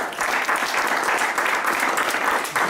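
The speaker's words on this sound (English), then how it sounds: "Let's give him a round of applause." Steady applause from a theater audience at a play, dense and sustained clapping filling the whole stretch with no pauses.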